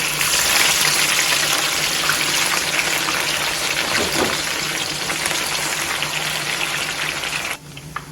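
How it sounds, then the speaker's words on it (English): Plantain frying in hot oil for an Ivory Coast attieke dish, a steady broadband sizzle running loud and continuous for most of the clip before dropping away abruptly near the end. "now I'm going to fry the plantain"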